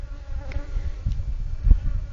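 Bees buzzing faintly around a large, smoked hive with a super and brood box, a soft steady hum with a few brief louder passes and a sharp knock near the end.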